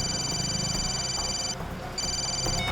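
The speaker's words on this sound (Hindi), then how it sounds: "अभिजीत को फोन करता हूँ।" A telephone rings during a call, a bright electronic tone repeating in bursts with a short gap between, heard over a low, steady background.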